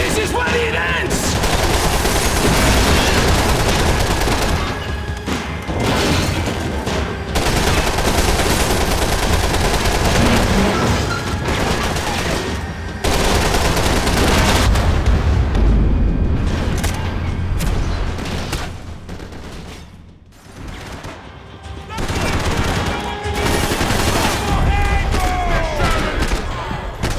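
Dense gunfire in the Max Payne 3 video game: sustained bursts of machine-gun and rifle shots with booming impacts, loud and nearly continuous, pausing briefly a few times, with voices occasionally breaking through the barrage.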